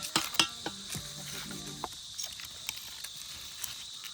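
Goat liver frying on a hot griddle outdoors, with a soft sizzle under a few metallic clinks and scraping stirs that come mostly at the start.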